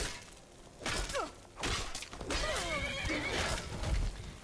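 A horse in the video game Skyrim gives two loud, close whinnies, each a rising then falling neigh, with soft thuds and rustling between them.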